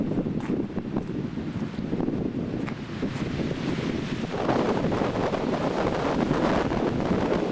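A strong gust of wind sweeps past a river in Ireland, buffeting the microphone with a loud, steady rushing roar that grows heavier toward the end, with no voices.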